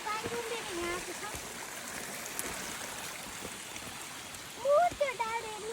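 Spring water wells up and runs down a small hillside stream in a village, making a soft continuous gurgle. Someone talks over it near the start and end.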